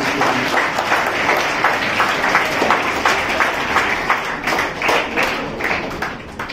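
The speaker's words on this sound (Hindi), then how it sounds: "ताली बजाइए" Schoolchildren at a Jain school assembly clap together in sustained, fairly even applause, a dense patter of many small hands lasting several seconds with no talking over it.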